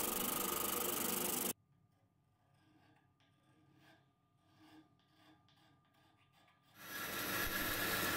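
The volute of a wooden baritone guitar neck is hand-shaped with steady rasping, rubbing strokes at close range, framed by loud broadband tool noise at the start and end.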